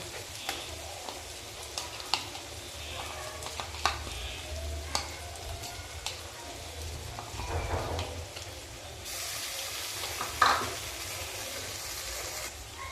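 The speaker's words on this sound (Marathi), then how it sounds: "आता आपण त्यामध्ये हा मसाला परतून घेऊ" Masala fries with eggplant in a pan for a village-style brinjal curry, a soft steady sizzle with scraping stirs and occasional clinks of the spoon, growing a brighter hiss near the end.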